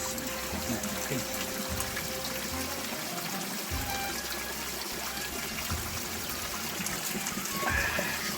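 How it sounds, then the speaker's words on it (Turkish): Cold spring water at the Guzoluk spring trickling and splashing steadily into a container, a continuous close watery stream with no voices. "Doldurup suyumuzu içelim"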